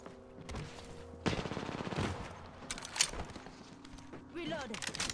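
Gunfire in Apex Legends, rapid bursts of shots crackling in several volleys, fairly close, mixed with other game effects.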